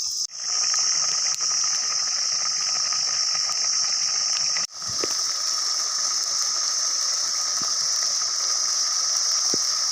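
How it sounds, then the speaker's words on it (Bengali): A covered pot of seeded-banana, potato and eggplant curry simmers in water, giving off a steady, even hiss with a brief break partway through and faint ticks underneath. "এটাই চাপা দিয়ে ফুটতে দিয়ে দেব।"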